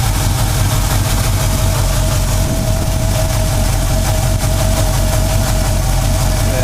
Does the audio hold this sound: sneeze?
no